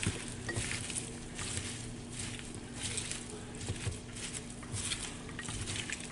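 Onions tossed with chili powder and oil in a pan, a soft steady patter of stirring and light sizzling at low volume, with small scraping and squishing touches and no talking.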